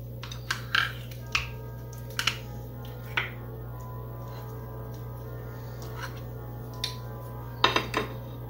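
Pork chops being turned over in a pan, a series of sharp scattered clinks and taps of utensil on metal at irregular intervals over a steady low hum, with no talk.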